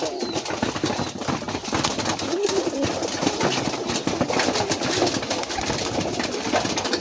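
Low, throaty cooing of Raj Golla pigeons on a pigeon farm repeats over a steady mechanical hum, birds fairly close, with no talking.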